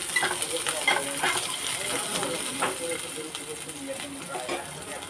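Nigella seeds, garlic and a small onion sizzle and hiss in hot oil in a home kitchen, a steady close frying crackle with occasional stirring scrapes throughout.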